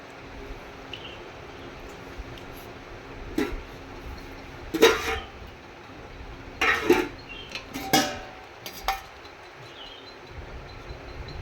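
Chopped bottle gourd pieces drop into a metal pressure cooker pot in several separate clattering knocks over a steady background hiss, with no talking.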